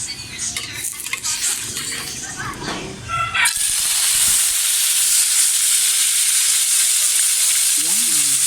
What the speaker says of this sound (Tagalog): luluto na natin ang ating yellow pin tuna